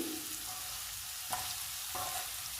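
Beetroot curry frying in a pan, a steady close sizzle with a few brief scraping stirs of the spatula, no voices.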